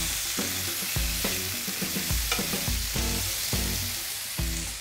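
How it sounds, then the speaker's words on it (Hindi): Water chestnuts fry in a pan while a spatula stirs them, giving repeated scraping strokes in an irregular rhythm over a steady close sizzle, no voices. "अब हम अपने लिड को हटा लेंगे और इसे स्पैचुला की मदद से थोड़ा सा मिक्स कर लेंगे।"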